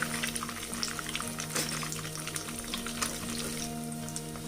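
Fish pieces frying in hot oil, a steady dense crackle and sizzle with scattered pops running continuously at close range, with no talk.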